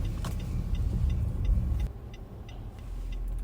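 Road traffic passes outside, heard from inside a car as a steady low rumble with light ticking, fading partway through.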